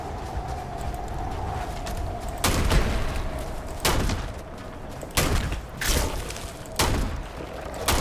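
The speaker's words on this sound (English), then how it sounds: "they do have a ranged attack, some sort of whatever that is, shooting mortars out of their mouths" In Starfield, creatures launch mortars from their mouths, landing as several loud booming thumps at irregular intervals over a steady low rumbling background.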